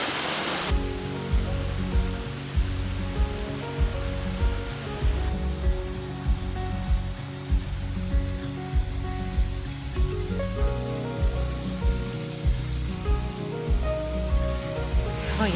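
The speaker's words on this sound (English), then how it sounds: "They are all man-made waterfalls, but if you didn't know any better, they look natural." Man-made waterfalls at a Florida state park pour in a continuous, even rush of falling water, steady throughout, with a tonal musical layer running beneath.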